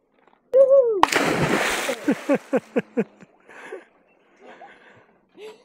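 A person leaps into warm water in Vietnam, landing with a loud close splash followed by choppy sloshing and gasping breaths, with brief voices before and after.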